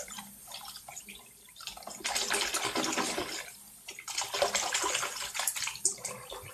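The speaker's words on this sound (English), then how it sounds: "I'm going to let the water run over it" Tap water runs into a basin over a synthetic wig with shampoo, a steady splashing rush that swells louder in two long bursts with quieter trickling between.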